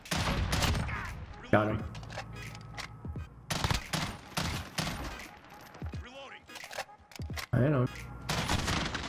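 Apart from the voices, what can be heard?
FAMAS burst gunfire in Call of Duty Modern Warfare video game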